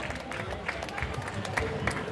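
An audience at a Guadeloupe crab festival applauds the craft sponsors, giving dense, fairly close clapping with crowd murmur blended underneath.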